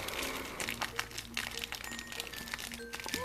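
A plastic bag of San Carlo Wacko's potato chips is torn open and handled, giving close, busy crinkling and crackling that goes on throughout, with faint background tones underneath.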